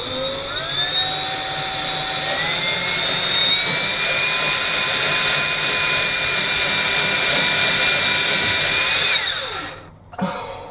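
A high-pitched power drill whines steadily for several seconds while working on a shed, its pitch rising in steps, then winds down and stops abruptly.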